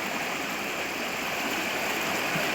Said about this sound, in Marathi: नाल्यांना अचानक पूर आला.